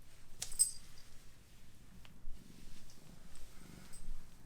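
A cat purring softly and close by in a quiet indoor room, a faint low rumble broken by a few small clicks and rustles.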